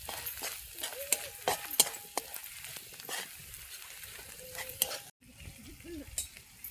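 Garlic, grated coconut and green chilli sautéing in hot oil with cumin and curry leaves, a steady close sizzle broken by stirring scrapes and occasional clinks of a spoon against the pan.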